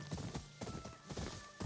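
Horse hooves clopping at a walk in the Ghost of Yōtei video game, a steady close rhythm of dull thuds over faint ambience.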